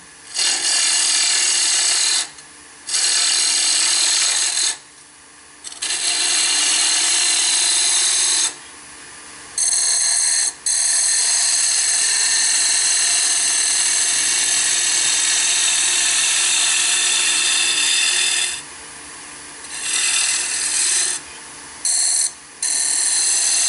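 A bowl gouge cuts wood on a lathe while turning a wig stand, giving a loud, steady broadband scraping hiss that stops and restarts in several bursts with brief quiet pauses between passes.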